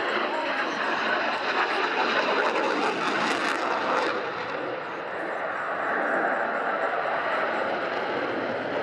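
Eurofighter 2000 fighter jet at an air show, a loud continuous broadband engine roar that surges and holds steady across the whole stretch, with a slight dip midway, heard at close to moderate distance.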